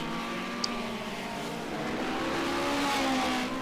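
Classic hot rods racing on the Yarmouth oval during a crash on turn one, heard as a steady, distant engine roar with a faint swell near the end; no impact stands out clearly.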